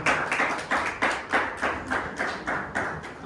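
A church congregation claps together in a steady rhythmic beat of about three claps per second, loud and close, with no talking over it.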